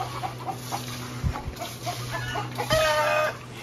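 A rooster clucks near a household yard, giving short scattered clucks and then a louder, drawn-out call near the end, over a faint background hum.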